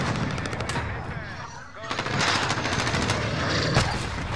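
Gunfire in Call of Duty while a VTOL aircraft is being shot down: rapid automatic bursts and heavy firing fill the whole clip, loud and dense, with a brief dip before the shooting intensifies again.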